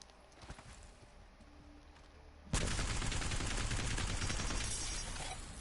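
Peacekeeper shotgun in Apex Legends blasting after a quiet lead-in, a sudden loud burst of rapid repeated gunfire that carries on to the end with dense crackling impacts.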